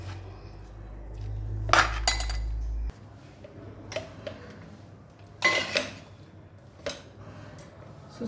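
Semiya pulihora being stirred in a pan, giving a few scattered clinks and scrapes of a utensil against metal, moderately close and fairly quiet, with no voices.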